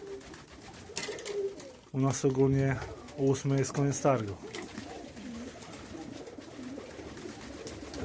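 Pigeons coo in a short rolling series at a night pigeon market, close and clear, while someone speaks in Polish before and around the calls.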